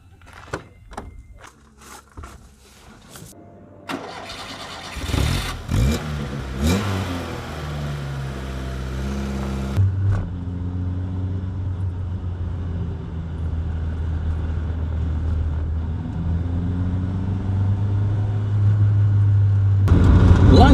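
A Lancia Montecarlo mid-engine sports car starts with a few clicks and a cranking catch, then its engine revs up through several throttle blips before settling into a steady, rising drone as it pulls away and accelerates.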